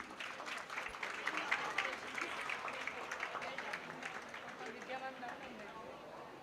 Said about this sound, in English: A big round of applause to Ms.